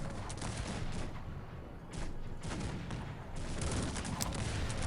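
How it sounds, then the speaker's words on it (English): Cannon fire in a large battle in the strategy game Cossacks 3, a dense, continuous barrage of overlapping booms and crackling shots with no one speaking over it. "We got lots of cannon fire there."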